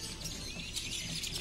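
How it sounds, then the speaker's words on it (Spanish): Loud, trilling birdsong fills the gardens of a rented mansion in a radio drama scene, with rapid high chirps repeating continuously and no voices over them. "En los jardines de la mansión alquilada por Karma se escuchan ensordecedores trinos"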